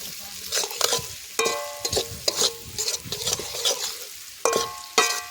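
Cumin and coriander sizzle in hot oil in a pan for an egg masala Maggi, with a spoon scraping and clinking against the metal at irregular intervals, close and clear.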